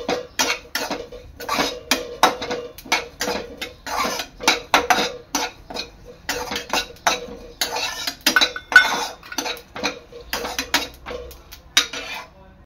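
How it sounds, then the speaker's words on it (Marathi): Sesame seeds being roasted and stirred in a pan, a rhythmic run of close metallic scrapes and clinks of the spoon against the pan, one after another with brief gaps. "तीळ सुद्धा चांगले परतून घ्यायचे आहेत"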